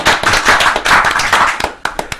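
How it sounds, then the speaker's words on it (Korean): An audience at a community development debate in Pyeongwha-dong breaks into loud, dense applause that thins toward the end into a few scattered claps. "토론회지만 박수가 나와도 상관없습니다"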